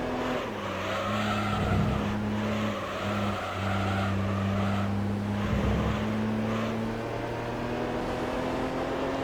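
Race car engine from the Gran Turismo video game holding a steady loud drone while outbraking an S2000 and briefly oversteering, with pitch dips under braking and continuous tire noise throughout.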